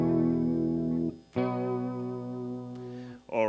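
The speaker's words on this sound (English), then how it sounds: "let's try our 3-band equalizer. So let me reduce the amount of middle tones" An electric guitar runs through a JavaScript three-band equalizer effect, sounding as sustained distorted chords that ring out, break off briefly and return with a shifted tone, heard alone.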